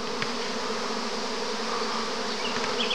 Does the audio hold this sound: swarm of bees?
yes